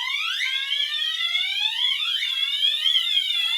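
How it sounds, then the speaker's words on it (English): Gentex Commander 3 fire alarm sounding its slow whoop tone: loud, continuous rising sweeps repeating about every 1.2 seconds, close to the listener with no talking. "Slow whoop for the Gentex Commander 3. That's the loudest tone on that alarm"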